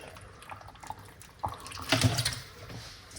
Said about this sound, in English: Let's put some water inside of it.